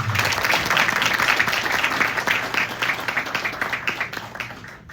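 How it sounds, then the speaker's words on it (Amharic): A church hall audience applauds kitchen volunteers at an annual children's program in Oakland, California, with dense, moderately loud clapping that thins and fades over a few seconds. "አመስግኗቸው፣ አጨብጭቡላቸው"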